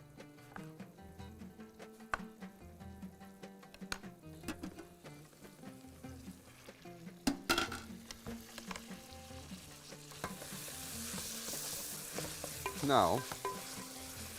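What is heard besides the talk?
eggplant frying and sizzling in a pan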